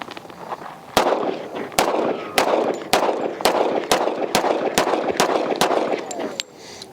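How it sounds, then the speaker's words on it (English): A Kimber Rapide 1911 .45 pistol fires about eleven loud, sharp shots in quick, fairly even succession outdoors, each crack close and punchy with a brief echoing tail. "I think everybody's surprised by that first shot,"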